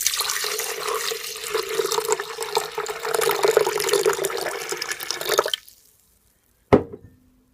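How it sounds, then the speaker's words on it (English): Homemade lemon water is poured into a blender jar, a steady splashing liquid stream for about five seconds that stops abruptly, followed by a single short clunk. "I'm gonna pour my lemon water that I made with my lemon. I'm gonna pour it in my blender"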